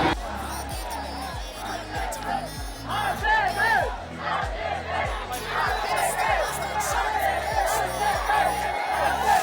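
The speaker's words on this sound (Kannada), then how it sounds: "ಅನ್ಇಮ್ಯಾಜಿನಬಲ್ ಕ್ರೌಡ್ ಇದು, ಇಂಪಾಸಿಬಲ್." Huge, dense crowd roaring and chanting at an RCB cricket team celebration in Bengaluru, with a steady pulsing rhythmic beat beneath continuous loud cheering and babble.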